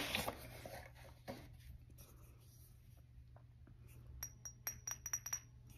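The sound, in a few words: glass bottle clinking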